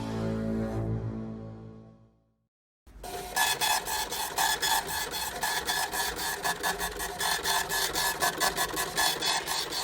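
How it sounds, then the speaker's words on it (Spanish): Ticket printer printing receipts and invoices: a fading tone, a brief silence, then a close, loud burst of rapid rhythmic mechanical chattering that keeps going in steady pulses. "Ese sonido que estás escuchando es el sonido de una tiqueadora."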